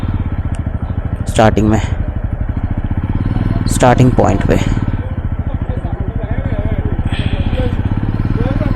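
A motorbike engine runs steadily at close range while the bike is taken out of a temple parking area in Almora, Uttarakhand; the low, even engine drone continues throughout beneath someone talking.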